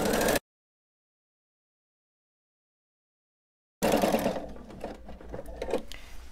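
A sewing machine runs steadily, stitching straight quilting lines across a quilt under a guide foot, starting abruptly after a long stretch of silence and continuing at close range with slight changes in pace.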